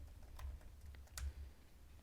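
Quiet clicking of computer keyboard keys, a few soft, irregular taps over a low background hum.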